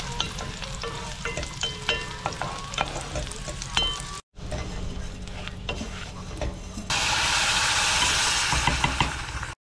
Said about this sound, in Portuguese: Vou deixar queimar bem o alho ali.